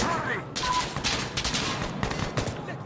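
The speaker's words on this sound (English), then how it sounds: "Did you hear everyone shooting?" Many players firing at once in an Insurgency Sandstorm match, a dense mix of distant and nearby gunshots and automatic bursts overlapping into a chaotic battlefield wash.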